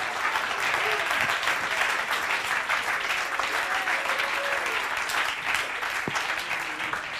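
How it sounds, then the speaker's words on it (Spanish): Church congregation clapping hands during a bilingual service, a sustained, moderately loud wash of applause with a few sharper individual claps and faint voices underneath. "Somebody clap your hands unto the Lord."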